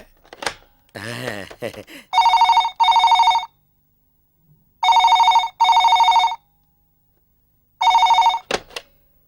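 A telephone rings in bursts of two electronic trills with pauses between them, loud and close, while someone speaks briefly before the ringing starts and at the end.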